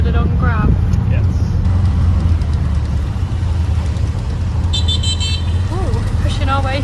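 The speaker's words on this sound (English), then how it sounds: "And a tuk-tuk that we've ordered on Grab." A tuk-tuk pushes through busy Phnom Penh traffic, its engine droning loud and close while car horns toot around it, with voices chattering over the noise.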